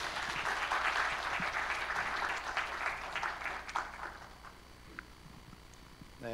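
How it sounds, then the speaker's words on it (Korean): Inside a church, the congregation claps to welcome a speaker to the front, a full round of applause that slowly thins and fades toward the end. "나오실 때 박수로 환영하겠습니다."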